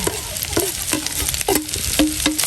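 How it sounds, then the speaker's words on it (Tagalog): Carrots, celery leaves, pepper and seasoning stir-fried in a pan, with rhythmic scraping stir strokes about twice a second and small squeaks over a steady close sizzle. "Ayan, at hahaluin lang po natin."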